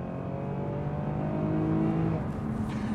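A Lexus GS350 4WD accelerates, its engine note climbing in a smooth, steady rise heard from inside the car, fairly loud and continuous with no talk over it.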